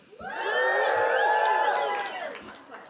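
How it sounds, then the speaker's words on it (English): An audience at a solidarity event claps and cheers loudly in a short swelling burst of whoops and shouts that fades out after a couple of seconds. "You clapped."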